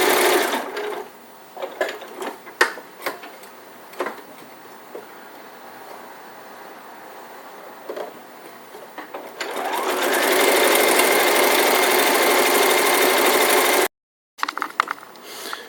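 Sewing machine stitching an elf hat, first in short stuttering bursts with pauses, then running in one long steady buzzing stretch before a brief cutoff and a few more short stitches, close and alone.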